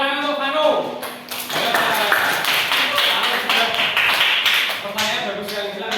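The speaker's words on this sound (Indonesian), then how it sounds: "tepuk tangan untuk Hano" A classroom of students claps for a classmate named Hano during a global warming science lesson, a lively burst of close, uneven hand claps layered with chatter and voices throughout.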